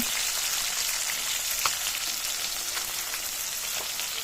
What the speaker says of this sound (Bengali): দেখো এখানে মাছ ভাজা বসিয়ে দিলাম